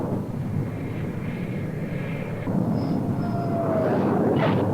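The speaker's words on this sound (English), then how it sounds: "When the planes return from their mission, the team stationed aft is ready for any emergency." A jet aircraft returning to a carrier deck from a mission, loud continuous engine roar that swells and shifts partway through, with brief whining tones on top, no talk.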